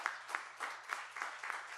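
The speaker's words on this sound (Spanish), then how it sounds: "¿Cuántos le pueden brindar un fuerte aplauso al Señor?" Church congregation clapping in rhythmic unison at a Spanish-language worship service, regular claps about three per second, moderately distant and steady.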